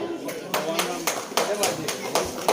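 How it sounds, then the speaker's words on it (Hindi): An audience claps during a prize-giving at a Ramlila festival event, giving close, steady applause with a strong, regular rhythm of beats that carries on throughout. "जोरदार तालियां बजाएं"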